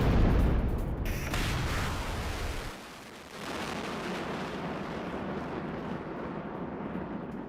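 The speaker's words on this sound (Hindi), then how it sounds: "डोनेस्क पर रूसी आर्टिलरी का हमला, यूक्रेनी ठिकानों पर भीषण बमबारी की गई है" Russian artillery shells Ukrainian positions in Donetsk, with a heavy, rumbling boom at the start followed by a sustained roar and a long, dense wash of low noise, with no voices.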